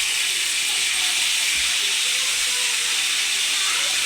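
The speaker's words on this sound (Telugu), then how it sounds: "ఈ ముక్కలు డీప్ ఫ్రై అయ్యాక మీకు చూపిస్తానండి మళ్ళీ." Pieces of bocchu fish deep frying in hot oil give a steady, dense hiss that stays even and continuous throughout, close and fairly loud with no talking.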